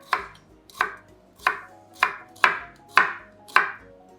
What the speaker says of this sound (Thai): หอมแดงนะคะ เราก็หั่นหน่อยหนึ่งจะได้ตำง่ายนะคะ